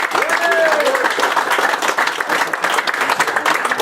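Audience applauding prize winners at a predatory-fish angling awards ceremony at Domaine de Bouxier, a steady dense crowd clapping throughout with faint voices mixed in.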